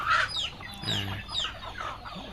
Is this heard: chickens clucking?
yes